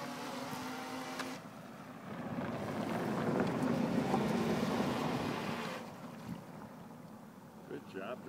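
A small radio-controlled boat motor running out on open water, a steady buzzing drone that swells louder as the boat passes nearer, then fades, with wind noise across the microphone and brief voices.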